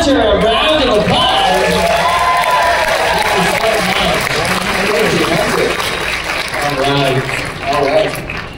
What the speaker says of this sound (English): give Hunter a round of applause